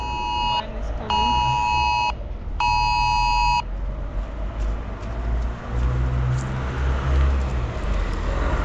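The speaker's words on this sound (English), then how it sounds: "sometimes you get an alert on your phone." An emergency alert on a phone in wartime Ukraine beeps in three loud, long bursts with short gaps, then gives way to street noise and distant rumble in the city.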